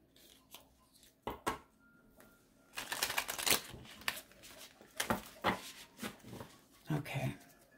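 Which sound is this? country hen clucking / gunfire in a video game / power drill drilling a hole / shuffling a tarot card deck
shuffling a tarot card deck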